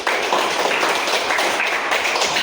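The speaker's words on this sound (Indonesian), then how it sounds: "kita tepuk tangan" A class of students clapping hands together in a classroom, a quick dense burst of many claps at close range.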